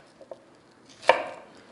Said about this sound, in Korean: 1cm 폭으로 해서 예쁘게 가지런하게 썰어줍니다